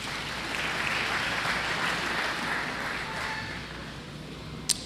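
Congregation applauding in a church, a sustained dense wash of clapping from many hands that holds steady throughout, moderately loud, ending with a single sharp knock.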